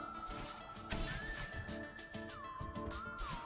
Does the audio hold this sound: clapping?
no